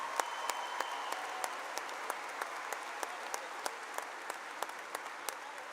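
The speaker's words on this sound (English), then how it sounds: "One more round of applause, please, for our concert choir." Audience applause for a concert choir at a 2024 high school graduation ceremony, a steady wash of clapping from a large crowd with sharp individual claps standing out, moderately distant and sustained throughout.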